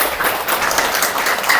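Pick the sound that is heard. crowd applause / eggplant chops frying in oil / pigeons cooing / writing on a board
crowd applause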